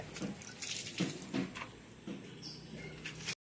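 Close splashing and pouring of rainwater with scattered clanks and drips as buckets and containers are filled and moved, in short uneven bursts.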